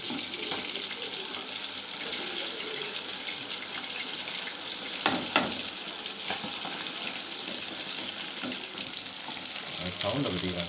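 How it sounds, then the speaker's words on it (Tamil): Salmon fish fries in oil on a low flame, giving a continuous close crackling sizzle with a few brief clinks and shifts in the pan. "இப்போ அந்த லோ ஃப்ளேமில் கொஞ்சம் நேரம் வேகட்டும் மீன் பொறிஞ்சிட்டா"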